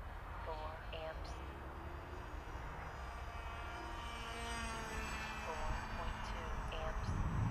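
A SkyHawk V2 RC plane with a single electric motor flies overhead in gusty wind, its thin motor whine rising and falling at moderate distance over wind noise while a person talks.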